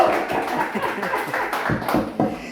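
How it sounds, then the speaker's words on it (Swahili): A small audience claps for a performer, scattered, uneven hand claps arriving close and fairly loud over a couple of seconds. "Unapiga makofi kwa Sapizo."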